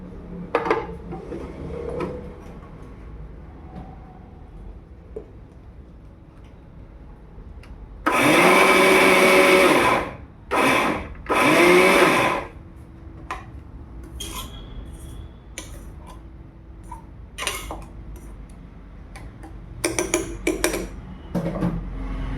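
A kitchen mixer grinder roars in three loud pulses while grinding ingredients for a big cowpea thoran. The first burst is the longest, then come two short ones. Quiet clinks and handling noises fill the gaps before and after.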